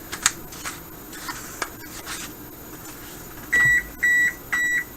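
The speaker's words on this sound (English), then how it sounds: "And my oven just heated up." A kitchen oven signals it has finished preheating with three clear electronic beeps in a row, near and moderately loud, after a few soft handling taps.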